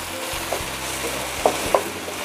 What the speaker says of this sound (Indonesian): Saya akan masukkan tempe dan kentang yang sudah digoreng.